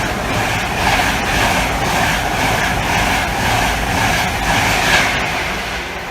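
A train passes through Grantham station, a dense, steady roar of wheels and motors with a broad hiss that swells slightly and stays loud throughout, with no voices.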